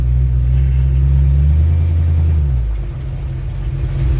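A 1965 Ford Mustang engine on a truck frame runs loudly with a steady low rumble, its tone shifting and easing slightly partway through as the vehicle moves in reverse.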